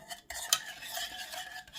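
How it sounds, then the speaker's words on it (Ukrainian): A spoon stirs cocoa powder and sugar into milk in a saucepan, close scraping and clinking strokes in a brief run with a sharp knock partway through. "І ретельно змішуємо, перемішуємо какао та цукор."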